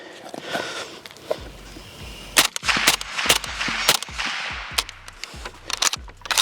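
AK-type rifle fed from a loose Romanian magazine firing a string of sharp, separate shots at an uneven pace, each a loud, crisp crack with a short echo.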